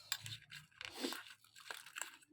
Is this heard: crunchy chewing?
yes